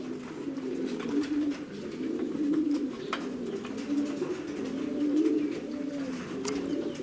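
Racing pigeons, back from a 427 km race from Grudziadz, coo in a continuous, rolling series of low burbling calls close by.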